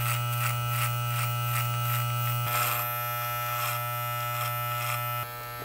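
Cheap electric hair clippers buzz steadily while cutting a mid fade on a head, a close, constant motor drone with rhythmic brief surges as the blade passes through hair, no talking.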